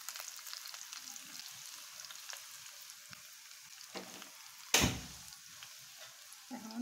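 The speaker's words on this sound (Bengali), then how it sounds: "এখন আমি পেঁয়াজ রসুন দিয়ে দিচ্ছি।" Onion and garlic frying in a pan, a soft steady sizzle with light stirring scrapes and one sharp clatter midway, fairly quiet and close.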